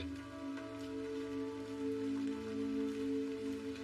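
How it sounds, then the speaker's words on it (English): Soft, steady rain patters in a low hiss with faint drips, heard quietly on its own without any voices, against a gentle background hum. "She listens to the sound of the rain trickling down the fabric of the umbrella."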